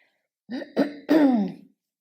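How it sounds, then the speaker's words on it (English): A person clears their throat in three short, rough bursts, close and fairly loud, in an otherwise quiet room. "Excuse me, just clear my throat."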